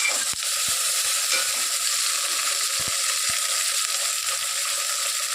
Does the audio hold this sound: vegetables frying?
yes